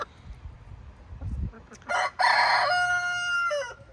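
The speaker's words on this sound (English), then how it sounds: "Some of these roosters make a lot of racket." Roosters crow loudly and close, a sustained harmonic cock-a-doodle-doo rising over clucking and background farmyard noise in a chicken yard.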